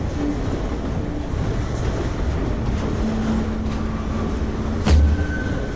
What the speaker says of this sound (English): it's just the train going over.